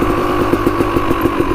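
A motorcycle engine idling steadily after being repaired, a close, loud and even rumble with a regular pulsing beat and no talk over it.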